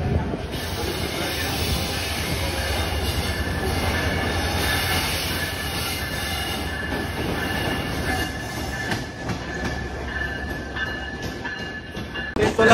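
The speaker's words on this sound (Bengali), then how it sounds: "আর এই লাইন দিয়ে একটা ট্রেন ঢুকে পড়লো দেখো" A train pulls into a station platform in Bangladesh, wheels rumbling and clattering with a sustained high metallic squeal, loud and close throughout as people talk faintly around it.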